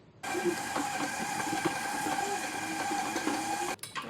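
Electric mixer on speed 2 beating cookie dough, a steady close motor whir with a faint rhythmic knocking. It starts abruptly and stops near the end, with no talking.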